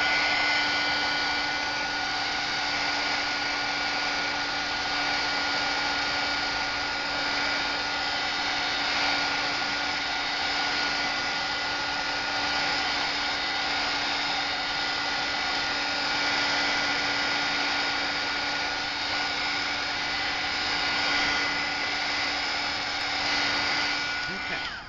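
A heat tool blows steadily and loudly for the whole stretch, drying alcohol inks on coffee-dyed paper, its whine holding constant with no pauses.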